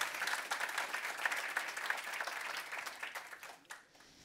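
Audience applause at an international AI summit conference for speaker Alan Davidson, steady clapping from a crowd that carries on for several seconds before thinning out toward the end.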